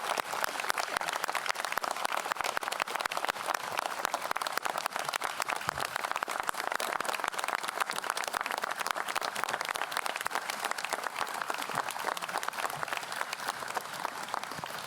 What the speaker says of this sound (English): Could we give these leaders a round of applause?